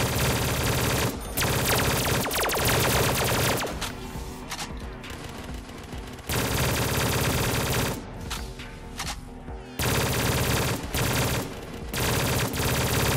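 Sustained automatic fire from the main weapon in Call of Duty: Black Ops 3 Zombies, loud dense bursts in three long stretches separated by quieter gaps with scattered single shots.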